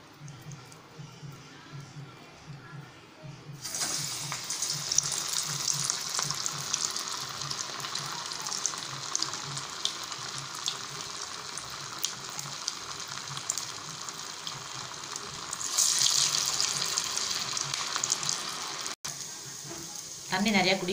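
Loud, steady bubbling hiss of banana flower fritters deep frying in oil begins after a few quiet seconds, continuing with brief surges of crackle.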